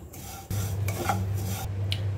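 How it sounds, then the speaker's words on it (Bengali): Vermicelli being stirred and fried over low heat in a pan for jorda semai, a steady close scraping and rubbing of a utensil against the pan with no talking. "চুলার আঁচটি একদম লোতে রেখে ধৈর্য ধরে এগুলোকে ভেজে নিব"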